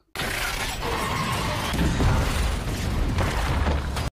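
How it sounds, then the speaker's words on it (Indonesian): A loud, sustained blast from a Terminator film sequence where two Terminators are pushed into a machine and explode, a dense roaring crash with shattering debris lasting about four seconds before cutting off abruptly. "berhasil mendorong si Terminator jahat ke sebuah mesin dan membuat mereka berdua meledak bersama"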